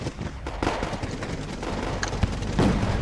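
Rapid gunfire and explosions from the video game Wargame AirLand Battle, a dense, continuous battle din of repeated shots with a sharper burst near the end.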